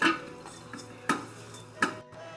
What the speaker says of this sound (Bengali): ভালো করে উল্টে পাল্টে করে ভেজে নিচ্ছি।